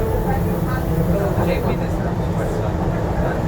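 Docklands Light Railway train running from Canary Wharf toward Stratford, past the Elizabeth Line tunnel portal: a steady, loud low rumble and rolling hum from the carriage throughout, with a faint higher whine rising midway and talk over it.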